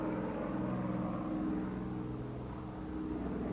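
Avro Lancaster bomber at the Royal International Air Tattoo 1996 at Fairford, a continuous deep droning roar of its piston engines holding steady and loud throughout, with no talk.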